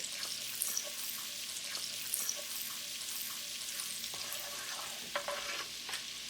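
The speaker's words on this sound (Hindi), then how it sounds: "अब इसके अंदर डालेंगे गार्लिक" Garlic sizzles in melted butter in a pan, a steady fine crackle with occasional light spoon taps and scrapes, near and fairly quiet, with no one talking.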